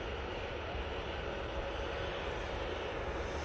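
A TUI airliner comes in at Manchester Airport, its engines a steady, distant, broadband roar that holds evenly throughout without change.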